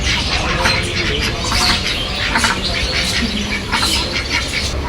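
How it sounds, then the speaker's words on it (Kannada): Ducks at a temple quack and squawk in repeated harsh calls close by, over a steady noisy background. "ಇಲ್ಲಿ ನೋಡಿ, ಇಲ್ಲಿ ಬಾತುಕೋಳಿಗಳಿದೆ"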